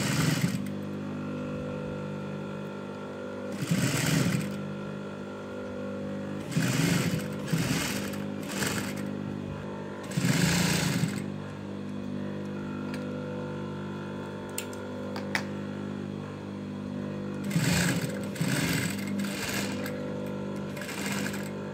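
A sewing machine stitches lace onto a baby girl's frill frock in repeated short bursts of rapid mechanical whirring. Quiet pauses fall between the runs of stitching, and a cluster of quick bursts comes near the end.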